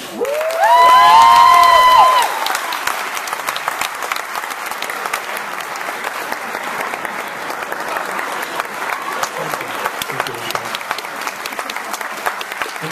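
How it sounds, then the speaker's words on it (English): Audience applause for a comedian at a live comedy show, loud at the start with a whooping cheer, then settling into steady sustained clapping from the crowd. "I want you guys to give a big round of applause"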